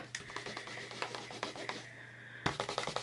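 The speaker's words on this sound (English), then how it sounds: "I'm just going to use my stamp and scrub. We like to keep our stamps clean." A rubber stamp being scrubbed clean on a stamp scrubber pad during card making: a run of soft, close rubbing strokes with a low steady hum beneath, pausing briefly before a final burst of scrubbing.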